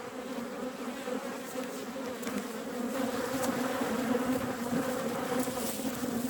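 Agitated honeybees buzz at an open beehive during a queen change, a dense continuous hum of many insects close by, steady and slightly swelling in loudness, with no talking.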